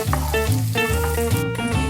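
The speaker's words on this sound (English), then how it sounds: "Now let this sizzle away for about a good 5 minutes till the onions go brown." Onions, garlic and mushrooms sizzle steadily in hot oil for spaghetti carbonara, a constant crackling fry with no talking.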